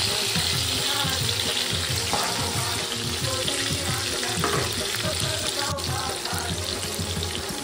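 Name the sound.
prawns frying in spice paste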